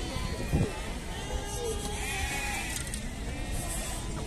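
Pregnant goats bleat at a busy livestock market, a couple of clear calls rising over a constant crowd murmur and background chatter.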